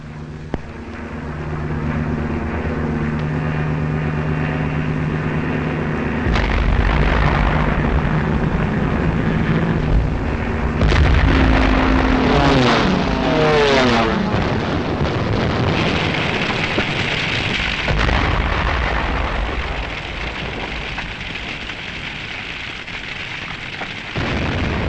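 Wartime bombing of Rotterdam in World War II: a dense, continuous roar of aircraft and explosions with heavy rumbling blasts and crackling, loud throughout and swelling in the middle, with no talk.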